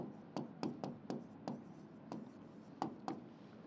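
Marker or chalk strokes tapping and scratching on a board during an English grammar lesson, about eight quick, distinct clicks in an uneven rhythm, fairly close, with no talking.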